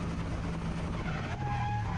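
Drift car sliding through a corner on the handbrake at a track event, a loud close engine drone with tyre squeal rising over it.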